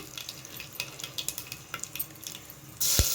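Cumin, mustard seeds and urad dal sizzle and crackle in hot oil with whole cardamom, cinnamon and cloves, giving close, steady frying with small pops and light stirring, then a sudden louder hiss at the end.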